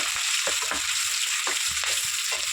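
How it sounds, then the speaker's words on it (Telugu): Two onions frying in hot oil for a mango chicken dish, a steady close sizzle with intermittent stirring scrapes and clinks throughout. "2 ఉల్లిపాయలు వేసామండి. ఫ్రై చేసుకుందాము."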